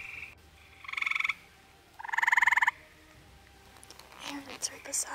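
Eastern gray tree frog calling outdoors in Somerset County, Pennsylvania: two loud, close trilling croaks about a second apart, followed by rustling and faint whispered voices.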